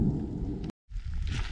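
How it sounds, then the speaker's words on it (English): Steady rain with thunder roars across a mountain trail during a storm, a broad loud wash that cuts out abruptly for a moment before resuming. "there's thunder and lightning right now"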